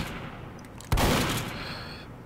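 A single shotgun blast from the Pyro class in a video game, one sharp loud report after quiet background, trailing off over about a second.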